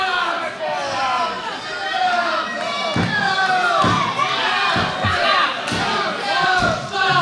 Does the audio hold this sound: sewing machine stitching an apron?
no